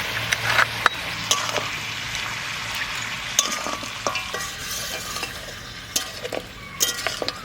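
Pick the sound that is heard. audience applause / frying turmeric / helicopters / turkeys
frying turmeric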